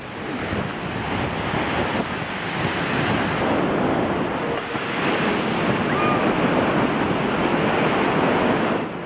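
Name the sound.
ocean waves crashing on shore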